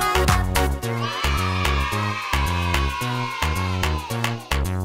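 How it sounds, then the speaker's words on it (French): A horse neigh rings out within a children's farm song about Old MacDonald, set over a steady bouncing bass and chiming music, loud and rhythmic throughout. "Et dans sa ferme il avait des chevaux, I-A-I-A-I-O."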